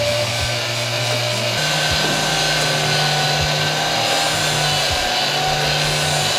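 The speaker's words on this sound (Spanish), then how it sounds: "acá con el esmeril vamos a comenzar a pulirlo y a sacarle brillo" A bench grinder polishes a resin guitar pick with French chalk: a loud, steady motor hum and whine with brief scraping dips as the pick is pressed and moved.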